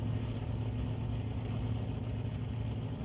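A drag race at a sportsman event with an SUV launching in the right lane beside a Cutlass, a dense, steady low engine roar that stays loud and even throughout.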